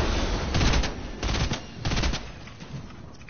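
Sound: gunshots from video game Fortnite

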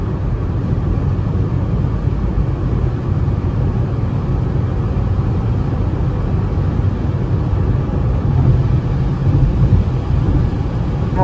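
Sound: Citroën C3 car driving in rain

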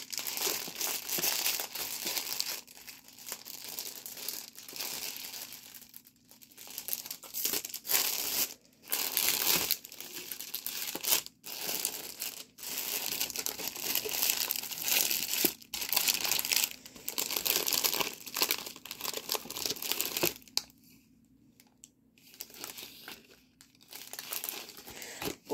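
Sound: diamond painting sticker sheets crinkling

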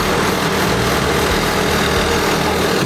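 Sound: tractor approaching on a rural road

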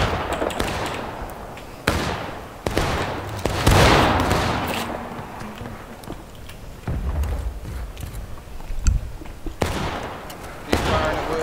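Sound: musket gunfire from the video game War of Rights

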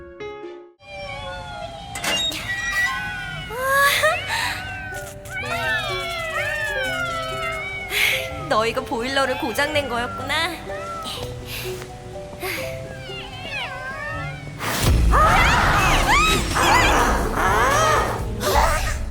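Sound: cat meowing

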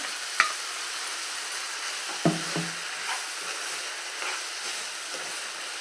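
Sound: grated coconut frying with amaranth leaves

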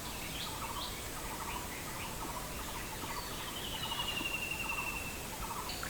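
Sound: cuckoo calling

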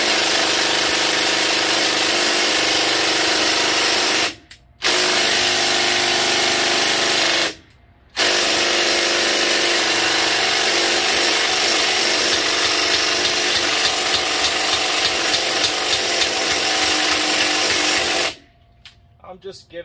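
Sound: impact wrench removing brake caliper bolts, Honda Odyssey

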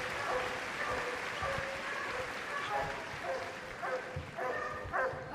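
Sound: police dogs barking

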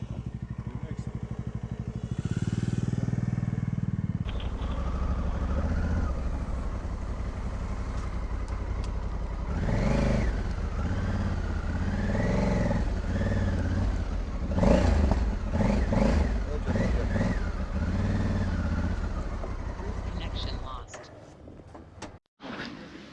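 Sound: motorcycles idling and revving, Africa Twin and KTM

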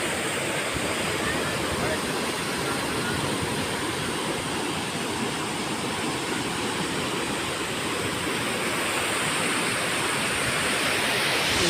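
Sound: floodwater of Kinnerasani stream rushing

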